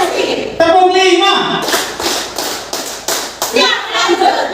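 A class of children claps hands in a rhythmic clapping game, several sharp group claps in quick bursts, with kids' voices speaking and calling out around them.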